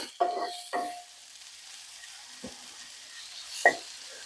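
Chicken and mushrooms are tossed in a frying pan for a cream sauce, with several distinct scraping, stirring bursts over a soft, steady sizzle close by.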